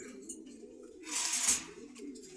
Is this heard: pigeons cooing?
yes